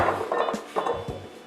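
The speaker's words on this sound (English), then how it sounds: "I'm going to go ahead and load them back in the bowl" Cut potatoes tumble back into a bowl in a home kitchen, giving a few close, soft knocks and clatters spread over a second and a half.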